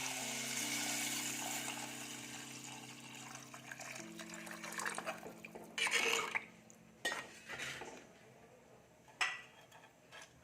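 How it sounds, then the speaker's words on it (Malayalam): Water pours into a pot for traditional chicken soup, a steady splashing rush that fades into drips and clinks of pots and utensils in a quiet kitchen, faint overall, with no speech. "ഇനി ഇതിലേക്ക് ഒരു 3 ഗ്ലാസ് വെള്ളം ഒഴിച്ചു കൊടുക്കാം."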